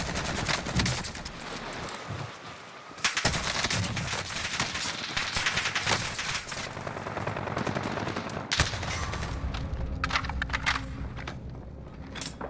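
An AK rifle fires in Call of Duty Warzone, with dense, loud automatic bursts close up, broken by short pauses and a few scattered single shots toward the end.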